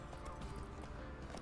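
Roach the horse's hooves clip-clop steadily on a courtyard path in The Witcher 3, a continuous close trotting patter over a low background hum.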